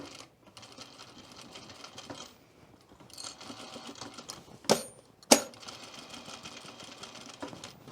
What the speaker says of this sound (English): All right, and I'm gonna sew here.